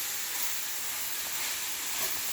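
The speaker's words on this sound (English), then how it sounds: "I'm just going to stir fry everything together for that." Chicken stir-frying in olive oil gives a steady, bright sizzle and hiss, continuous and close, with no voices over it.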